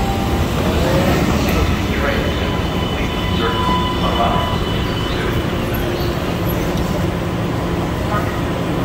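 A train to Boston rumbles steadily along at close range, a constant low roar of wheels and motor filling the whole stretch, with faint voices underneath.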